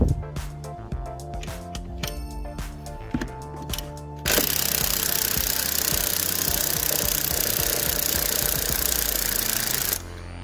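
Pneumatic impact gun working a bolt on an Alfa Romeo 145 Cloverleaf under restoration: short rattling bursts first, then one long, loud, continuous hammering run that stops abruptly near the end.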